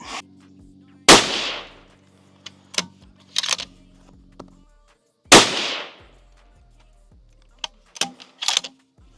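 Rifle shots fired during a case lube and tuner test at a range: two loud, sharp reports about four seconds apart, each with a lingering tail, plus fainter clicks and mechanical handling sounds between them.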